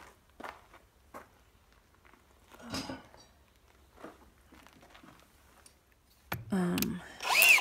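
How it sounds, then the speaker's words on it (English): A nut driver works loose the bolts on a Myers 2.5 HP irrigation water pump during a teardown, with scattered metallic clicks and handling knocks, then a louder, sustained whirring burst near the end. "Nut driver here. You gotta loosen these."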